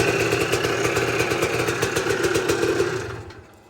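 A 1983 Honda ATC 250R three-wheeler engine fires on gasoline and runs as a steady, loud, close, raspy two-stroke drone, then dies away over the last second when the kill switch cuts it.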